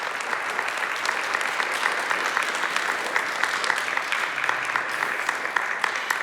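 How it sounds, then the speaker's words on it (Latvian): Steady, dense applause from a concert audience at a pre-concert event, many hands clapping continuously at an even loudness throughout, with no pauses or talk. "Aplausi turpinās."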